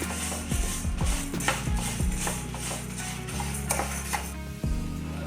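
Dry red chillies and garlic frying in a pan for a Mangalore-style horse gram chutney, with a steady sizzle broken by repeated scraping and clinking of a metal spoon against the pan, close and busy.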